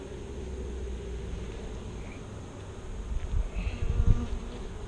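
Honeybees swarm and buzz around an open hive during a split, a dense steady hum close by that swells slightly louder near the end, with no voices.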